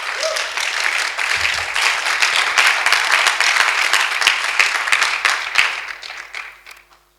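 An audience at a church prayer seminar claps steadily, with dense applause that holds for several seconds and then tapers off to silence.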